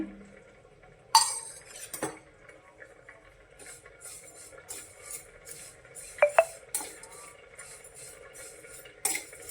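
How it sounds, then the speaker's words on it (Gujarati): Cow ghee and vermicelli roasting in a pan, with soft continuous scraping from a stirring utensil, punctuated by a few sharper metallic clinks and taps against the pan, fairly quiet and close. "આપણે સેવને પહેલાં ઘીમાં શેકી લેવાની છે"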